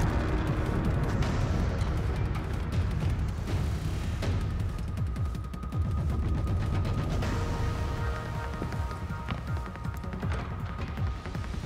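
Dense, continuous gunfire and heavy booms from the video game Generation Zero, a loud, busy barrage running the whole time with no clear pauses.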